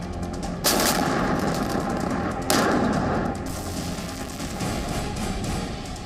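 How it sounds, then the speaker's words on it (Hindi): Naval guns on Chinese warships fire shells during a military exercise, two loud booming blasts about two seconds apart with rolling echoes over steady background rumble. "समंदर में चीन के युद्धपोत तोपों से गोले बरसा रहे हैं"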